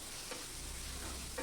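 Onions frying in a pan with salt for chana dal, a steady close sizzle and crackle with faint stirring scrapes, no voices.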